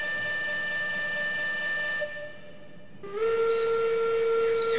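A steam train whistle in the video game Railroads Online blows loud sustained tones, cuts off briefly, then resumes at a different, lower pitch, near and alone without talk.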